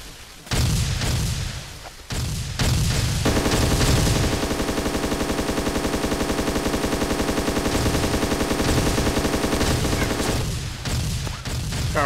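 Automatic gunfire from a mounted gun in a video game rattles in a loud, sustained rapid burst lasting several seconds, with shorter bursts before and after.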